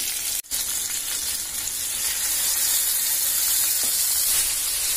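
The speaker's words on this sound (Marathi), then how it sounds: "आणि आता आपले हे चांगले बऱ्यापैकी फ्राय झालेले आहेत" Green chicken kababs, small boneless pieces, fry in a pan with a steady, close sizzle that stays even throughout, broken only by one brief dip near the start.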